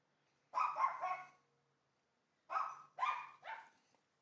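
A dog barks in two bursts in a backyard: a single short bark, a pause, then three quick barks in a row, clear and close in a quiet setting.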